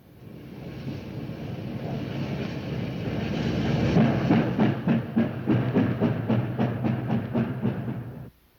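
A Pacific-type steam locomotive backing in chuffs slowly with a rising, steady rhythm of exhaust beats over a low rumble, heard from fairly close outdoors.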